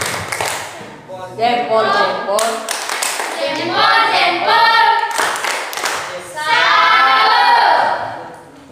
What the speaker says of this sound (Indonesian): Oke, kita tepuk salut.